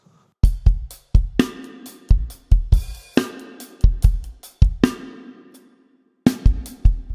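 A drum kit plays a steady beat of kick, snare and cymbal hits from a song, then drops out for a clear rest on beat three before the pattern resumes.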